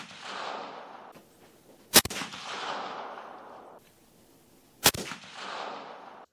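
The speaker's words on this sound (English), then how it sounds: "It's got the suppressor on it. That's 338 WinMag." Two sharp, loud suppressed rifle shots from a Ruger American chambered in .338 Win Mag fitted with a Banish 338 suppressor, spaced about three seconds apart, each followed by a rolling outdoor echo.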